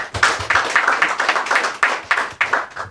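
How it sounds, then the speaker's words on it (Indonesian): An audience at a political party gathering in Malang claps, a fairly small crowd producing distinct, dense hand claps that rise and fall in loud bursts throughout, with no voices. "Kita berikan tepuk tangan dulu."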